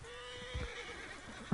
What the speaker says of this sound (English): I just heard a scream and the horse going crazy.